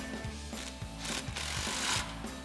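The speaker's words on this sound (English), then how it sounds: "we'll go ahead and tighten down our band clamps using our 15 mil socket on our impact" An impact wrench with a 15 mm socket tightens exhaust band clamps on a 2015-2023 Mustang GT X-pipe install, producing a steady, close, rattling hammer buzz in short bursts.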